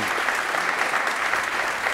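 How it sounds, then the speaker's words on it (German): Dense, steady applause fills a hall at an anniversary celebration in Berlin as a prize winner is honoured, many hands clapping together loudly and continuously. "Danke ging vorhin unter ein bisschen im Beifall"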